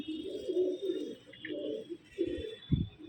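A purple fancy pigeon of modest height coos in a few low, soft, rounded phrases, close by and alone, ending in a short, deeper burst.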